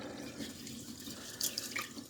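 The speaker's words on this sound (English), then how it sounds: "Add a little bit of salt, and 1 1/4 cups of water." Water poured into a pot of rice and salt in a home kitchen, making a steady, close splashing and trickling flow with a few brighter drips near the end.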